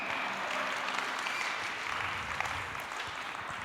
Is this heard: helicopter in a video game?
no